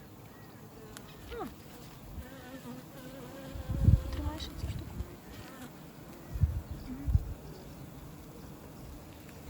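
Honeybees buzzing inside a hive while a frame is handled, a steady insect hum with a few louder close passes and some soft handling thumps, and a person speaking briefly over it.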